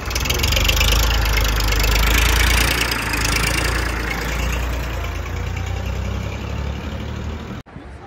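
A 45 horsepower Indofarm tractor with 13-inch tyres idles nearby, a loud steady low engine rumble with a knocking throb that continues for several seconds before a brief cut.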